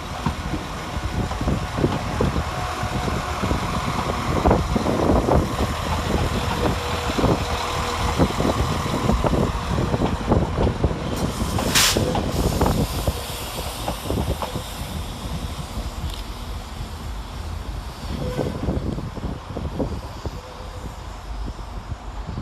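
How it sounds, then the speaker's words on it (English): Northern Rail CAF class 195 trains depart and arrive at Sheffield railway station, giving a sustained rumbling roar with clattering wheel thumps, a brief high squeal midway and steady background din. "And as one CAF departs, another CAF arrives with 195011, terminating with a service from Lincoln Central."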